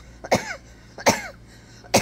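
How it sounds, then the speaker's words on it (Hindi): A woman coughs three times, each a sharp close dry burst about a second apart, with quiet pauses between and no talking. "खांसी भी आ रही है"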